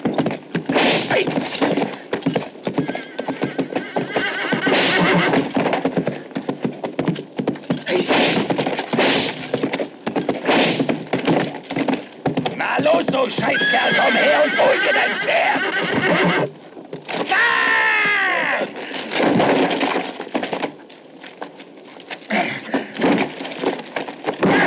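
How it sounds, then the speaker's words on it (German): A western film scene with a horse whinnying amid thuds, clattering hooves and scuffling, punctuated by sharp whacks and shouts in a loud, busy action mix. "Hier hast du dein Pferd!"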